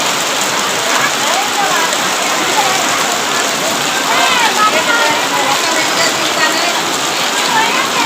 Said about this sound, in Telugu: ఎటు చూసినా కూడా వర్షమే